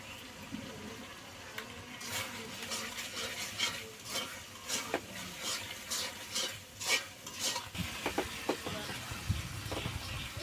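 Meat being stirred and fried with spices in a pot for biryani, with steady sizzling and repeated scraping clinks of a metal spoon against the pan, close and continuous.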